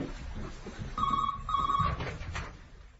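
An old-style telephone bell rings twice in quick succession, each burst a bright trilling ring about half a second long, close by in a quiet room with faint background movement.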